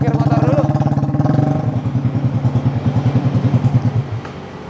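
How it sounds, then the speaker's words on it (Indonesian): A Yamaha Scorpio motorcycle converted to a softail-style bobber idles close by while parking, its single-cylinder engine thumping in a steady, loud pulse that settles into a slower, rougher idle before easing off. "Sekarang kita parkir motor dulu."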